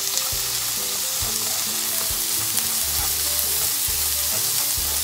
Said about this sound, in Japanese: エビはね、炒めすぎちゃうと硬くなっちゃうのでね、さっとです。